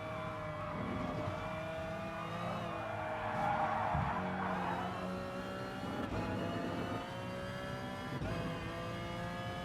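A racing car engine in the GT Sport video game drones steadily among a pack of cars, revving and shifting with layered engine tones at moderate, even loudness throughout.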